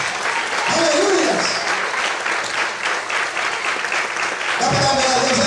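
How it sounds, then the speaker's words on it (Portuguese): A church congregation applauds during an evening service, a dense, steady wash of clapping that fills the room, with a preacher's voice briefly rising over it near the start and again at the end. "Todos podem glorificar e aplaudir Ele nessa noite."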